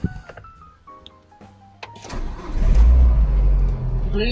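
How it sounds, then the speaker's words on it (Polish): A Citroën Xsara Picasso, fitted with a replacement ignition coil and new spark plugs, gives a few dashboard chimes and clicks, then the starter cranks briefly and the engine catches with a loud, close rising roar that settles into a steady idle. "Zobaczymy teraz, jak nam tutaj autko odpali."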